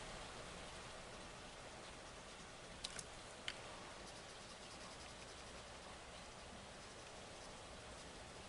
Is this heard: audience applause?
no